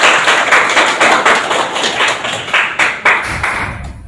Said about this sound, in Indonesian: Tepuk tangan ya dong